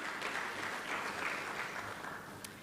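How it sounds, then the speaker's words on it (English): Audience applause at a geopolitics conference in Kampala, a steady wash of clapping from a seated crowd that holds even through the short clip, with no voices over it. "A round of applause for him."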